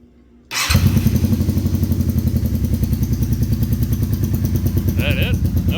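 A 1982 Yamaha Seca 400 motorcycle, freshly primed with fuel, fires up after a near-silent pause, catching abruptly and settling straight into a loud, close, steadily thumping idle.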